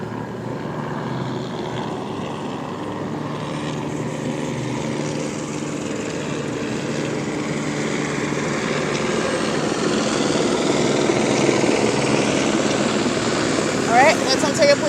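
Police helicopter of the Ontario Police Department passing overhead, a steady broad rotor-and-engine drone that holds for the whole stretch and grows slightly louder toward the end.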